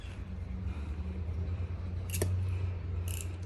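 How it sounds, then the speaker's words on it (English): A sharp cutter trims the excess plug material sticking out of a repaired tire, making two quick, faint snips against a quiet, low background hum. "don't cut the tire, just cut this excess"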